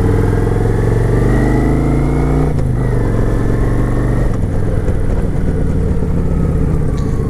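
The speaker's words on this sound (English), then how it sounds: "Smooth shifting motorcycle." A Kawasaki Vulcan 900 motorcycle pulls away at close range, its engine rising in pitch, then dropping sharply at each gear change around the midpoint before building again, loud and throaty throughout.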